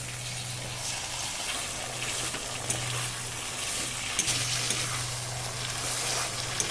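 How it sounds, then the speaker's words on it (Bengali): Boiled taro greens hit fried spice paste in a pan, setting off a steady, moderate sizzle with occasional sharp ticks and a low background hum running underneath. "এবার দিয়ে দিচ্ছি সেদ্ধ করা কচুর শাক"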